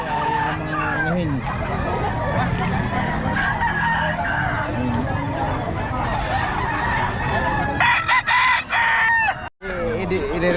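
Hens and chickens for sale at a market clucking and crowing, with a rooster calling out, close and lively over a busy background of people talking and occasional traffic.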